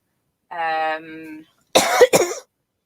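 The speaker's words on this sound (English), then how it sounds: "I'm going to cough to death." A tone is followed by a brief pause, then two sharp, raspy coughs close up.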